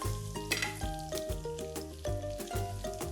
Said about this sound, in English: the spices are starting to kind of fry a little bit, so I'm gonna go ahead and add in some of that chopped garlic and my shrimp